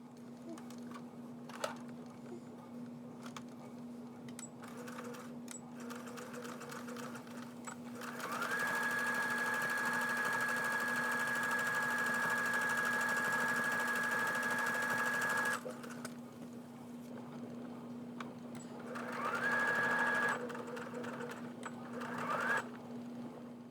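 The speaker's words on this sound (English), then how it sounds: "now I'm going to take it to my machine and I'm going to sew" A sewing machine stitches shorts fabric in two steady runs, a long whirring burst of about seven seconds followed by a brief second burst, against a quiet room hum.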